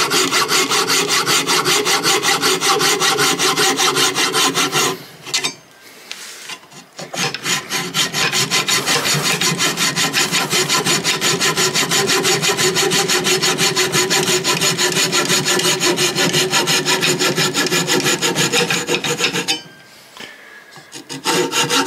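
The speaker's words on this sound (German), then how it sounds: "Und dann säge ich immer im Wechsel, bis ich fast durch bin." A hand saw cuts through wood with fast, steady rasping strokes, loud and close, pausing briefly twice before carrying on, with no talking.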